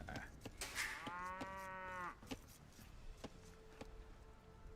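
Cows moo nearby: one long, strong bovine call lasts about a second, then comes a quieter, lower moo amid faint background noise.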